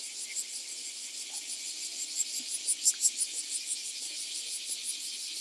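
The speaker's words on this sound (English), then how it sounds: "please let me know if you can hear the sounds of summer, the cicadas behind me" Cicadas sing through a summer day in Hiroshima, Japan, a dense high-pitched buzzing drone that keeps going with a pulsing rise and fall in the middle, heard from nearby at moderate loudness with no talking.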